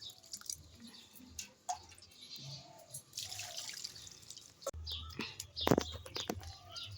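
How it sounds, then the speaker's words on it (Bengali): Cold water poured over strained sago in a kitchen, a brief splashing pour with drips and gurgles, fairly quiet, with birds chirping in the background. "আর এতে দিয়ে দেবো আমি ঠান্ডা জল।"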